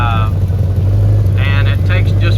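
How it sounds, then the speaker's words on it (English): A 1997-2004 Chevrolet C5 Corvette with a 4L60E automatic transmission idles steadily, giving a loud continuous low hum and drone while a person talks over it. "Always have the engine running when you're refilling these"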